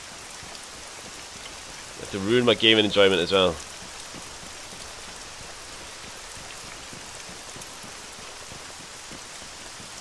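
Steady rain falls across the Altis map in Arma 3, a soft continuous hiss running the whole clip, with someone talking briefly in the middle.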